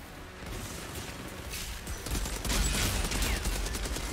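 Gunfire in the shooter game Outriders during a fight in a rebel bunker, dense rapid bursts of shots that intensify partway through, loud and busy without talk.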